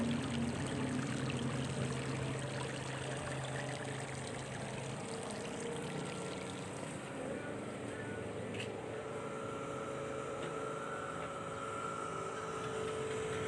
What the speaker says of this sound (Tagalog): ganito pa ang tunog ng water pump hindi po siya ganun kalakasan ng ingay